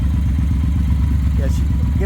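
A Triumph Speedmaster 1200 motorcycle engine idling up close with a steady low rumble, loud and continuous, with a brief faint click near the end.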